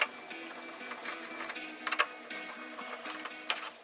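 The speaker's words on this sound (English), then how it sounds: "With a T15, let's first remove the 2 screws for the hood latch" Two screws are backed out of a Silverado hood latch with a T15 driver, giving a soft rhythmic ratcheting tick, close and quiet, with a few sharper clicks.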